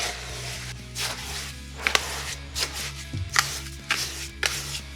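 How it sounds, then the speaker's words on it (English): Concrete is mixed by hand in a bucket, with rhythmic scraping and gritty thuds of the tool working through the thick mix, close and moderately loud. "there's no way I'm going to be able to get to the bottom of this concrete while I'm mixing it in the bucket like this by hand"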